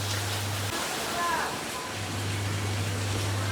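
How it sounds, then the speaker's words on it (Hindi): Heavy rain falls outside, a steady broadband hiss that fills the whole stretch alongside a constant low hum. "बारिश का आवाज़ ज़्यादा आ रहा है"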